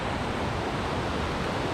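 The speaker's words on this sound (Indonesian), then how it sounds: "air terjunnya udah kedengeran dari sini ya" A river rushes near a waterfall on Sumba, a constant, dense roar of water with no breaks, close and loud throughout.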